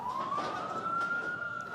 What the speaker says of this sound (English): The ambulance crews move in.